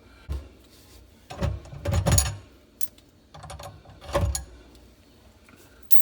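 Bolts being loosened on a garbage disposal flange ring under a sink, with scattered metallic clicks, scrapes and clunks arriving in irregular bursts, close and moderately loud, separated by quiet gaps.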